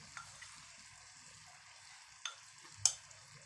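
Milk simmers with vermicelli in a pan for a sweet khoya-style dish, giving a soft, low bubbling sizzle broken by a few quick spoon scrapes against the pan.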